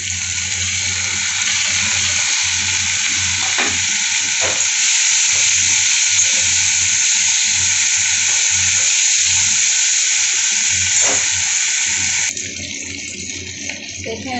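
Ginger garlic paste fries in a hot pan with a loud, dense, continuous sizzle and a few stirring knocks, then drops sharply quieter toward the end.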